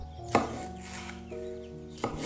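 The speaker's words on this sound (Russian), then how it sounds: "Режу перец на дольки" A knife cuts a halved, seeded orange bell pepper into slices on a board, giving two or three crisp chops spaced apart, with faint background hum.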